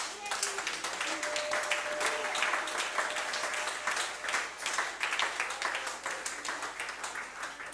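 Church congregation applauding during a French-language worship service, a continuous roomy wash of clapping with a faint sustained tone and murmured voices underneath.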